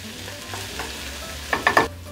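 Chopped serrano pepper cooking in a pan gives a soft, steady sizzle, with a short burst of scraping stir strokes near the end.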